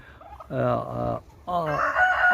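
Two loud, close broiler chicken calls in quick succession, each a harsh drawn-out squawk with no other sound between them.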